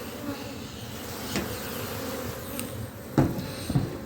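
A honeybee colony hums steadily during a hive inspection, with individual bees buzzing past near the end and a few light knocks of frames.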